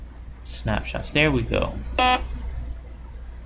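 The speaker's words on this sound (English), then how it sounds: "Okay, now that is the alarm." A Foscam IP camera sounds its motion alarm, a short series of electronic beeps and buzzes, while someone speaks over it close to the microphone.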